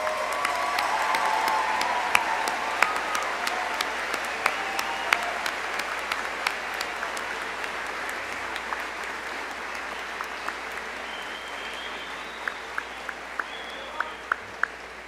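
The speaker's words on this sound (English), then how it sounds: "How about one more round of applause for our Bachelor of Arts?" Audience applause for Bachelor of Arts graduates at the 2017 Hastings College commencement: steady, sustained clapping from a large crowd for about fifteen seconds, with a few sharper individual claps standing out near the end.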